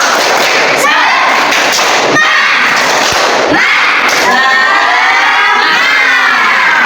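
Children in an Indonesian classroom perform a "tepuk semangat" clapping chant, loud and close, with sharp hand thumps and shouting voices that merge into a noisy crowd of young voices.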